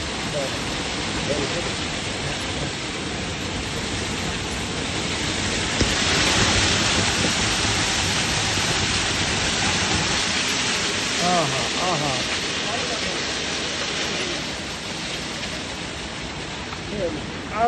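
A water-powered ghatta mill, used for grinding wheat, maize and millet, runs on flowing water, giving a steady rushing wash with rumbling and clattering throughout, louder near the middle, under occasional indistinct voices.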